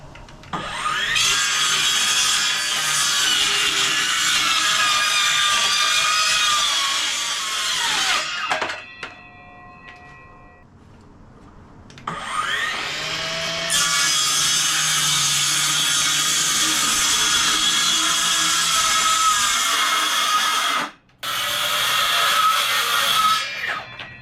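A cordless power saw running on a 2-amp battery cuts through a wooden board in two long, loud, whining passes, with a short tonal pause between them and a brief drop near the end.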